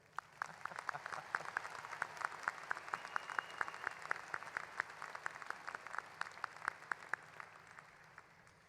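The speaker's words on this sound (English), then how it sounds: "let's hear a round of applause for our fine class of seniors right here" Audience applause for the graduating seniors at the 2023 Huntley High School graduation, a moderately quiet, steady patter of many hands clapping throughout, heard from some distance with no talk over it.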